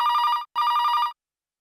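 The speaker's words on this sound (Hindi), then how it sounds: "या इस वक्त किसका फोन आया?" An old-style telephone bell rings loud and close in two trilling bursts with a brief gap between them, then stops.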